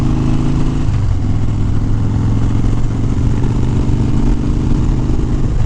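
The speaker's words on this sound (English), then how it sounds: "So we're just out for a drive today, a ride. Out on the dyna this morning." A Harley Dyna motorcycle out on a morning ride, its engine a loud, steady low rumble with a slight shift in pitch early on, heard up close and continuous with no talk.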